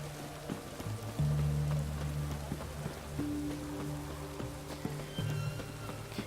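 Rain falling in the Witcher 3 video game, a soft continuous patter under steady low tones and occasional hoof clip-clops, quiet and even throughout.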